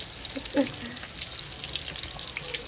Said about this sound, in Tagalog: Kaya pala pinaputok dahil kapag habang piniprito mo siya ay pumu parang pumuputok talaga.